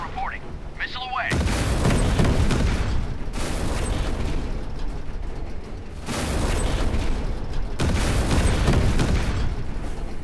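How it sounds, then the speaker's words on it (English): A missile launches in the Warships Mobile video game as a series of heavy booming roars, each surging in and sustaining for a couple of seconds, with short tonal chirps at the start. "Missile silo reporting. Missile away."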